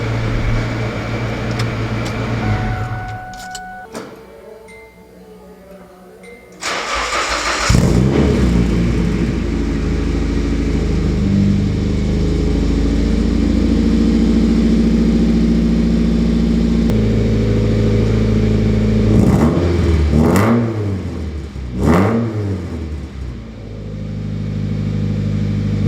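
A 1991 Nissan 240SX S13 coupe with its original KA engine cranks and catches, then settles into a steady, loud idle before a pair of sharp revs near the end, heard close with no talking.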